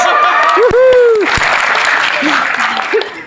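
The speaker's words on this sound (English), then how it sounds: "Round of applause for immaturity." At a convention panel, a burst of audience clapping and cheering rises under excited voices and a sharp whoop, then quickly thins out.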